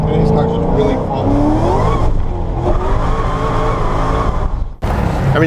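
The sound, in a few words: Corvette car driving and accelerating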